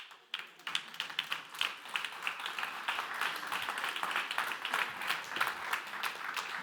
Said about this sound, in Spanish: Si va a aplaudir, aplauda.